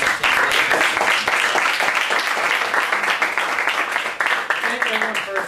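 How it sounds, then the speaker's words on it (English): Audience applause after a speaker is introduced at a USC Net Impact event, a dense, steady wash of clapping that fills the clip, with voices emerging faintly toward the end. "he deserves a round of applause"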